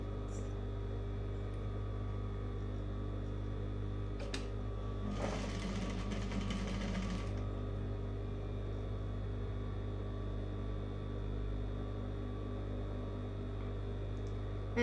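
A sewing machine stitching the folded hem of a chiffon scarf runs as a faint, steady hum with a short burst of rapid stitching in the middle, and no talk is heard.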